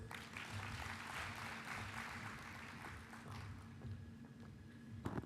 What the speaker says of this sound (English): Thank you for giving her a good round of applause.